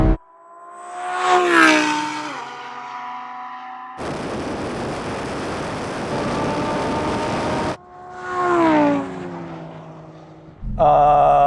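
A Lamborghini Sterrato and a Porsche 911 Dakar accelerate in a drag race, with engines rising in pitch through two gear changes, then a burst of loud rushing wind noise, then another climbing engine pass and a final roar.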